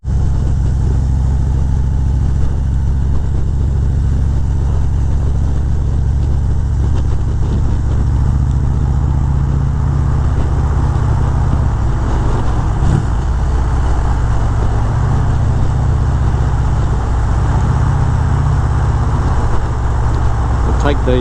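A 2018 Harley-Davidson CVO Street Glide drones steadily while riding, a constant low engine rumble mixed with road and wind noise that runs unbroken throughout.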